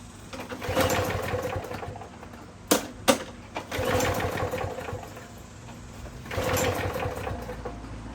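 A John Deere JS30 walk-behind lawn mower engine runs in a steady buzzing drone that surges and dips in waves, broken by a few sharp knocks partway through.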